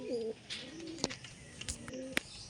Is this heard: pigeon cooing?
yes